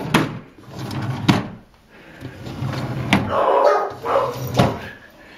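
Dogs bark excitedly in short, sharp bursts indoors near a cabinet with drawers, with some knocks and clatter mixed in; no speech.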